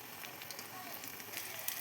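Pea fritters frying in hot oil in a wok make a steady, soft sizzle with faint crackling, close and even throughout, with no voices.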